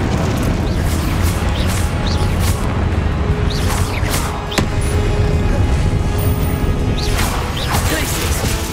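Blasting fire spell from a Harry Potter video game, loud crashing booms and whooshing impacts repeating in dense bursts over a constant roar of game effects, with a voice shouting spell names.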